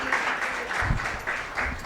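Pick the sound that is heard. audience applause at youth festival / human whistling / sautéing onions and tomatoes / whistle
audience applause at youth festival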